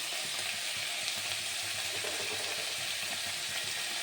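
Whole cumin seeds crackle and sizzle steadily in hot oil while moong dal with a catla fish head is being made, a continuous close frying hiss with no talking.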